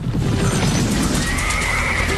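Loud, close horse neigh used as a sound effect, a sustained whinny over a dense background rumble with faint hoof clip-clop, no talking.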